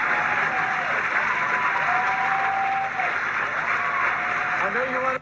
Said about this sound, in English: Why are you clapping for yourself?